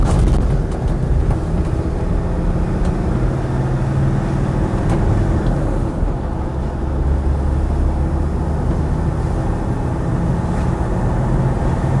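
A Land Rover Defender 90 TD5 station wagon drives uphill, its diesel engine a continuous, loud, low rumble heard from inside, mixed with road and cabin noise and no talking.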